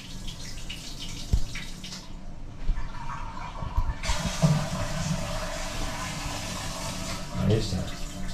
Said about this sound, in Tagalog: Automatic na, bumuhos na ng tubig.